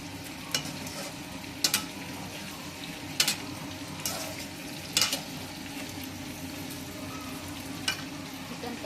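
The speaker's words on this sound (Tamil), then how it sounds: "தவாவில் மசாலையெல்லாம் போட்டுட்டு ரோஸ்ட் பண்ணிட்டு இருக்கேன்" Chicken kebab pieces coated in masala roast on a hot tawa, giving a steady close sizzle with a few sharp clicks and taps of a utensil scattered through it. No one speaks.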